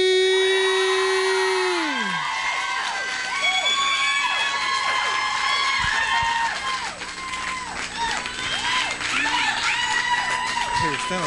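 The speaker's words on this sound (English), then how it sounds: "let's give a touchdown applause for Julie Key." A church congregation cheers and applauds in a sustained roar with whoops and whistles, loud and close, after a brief steady tone at the start.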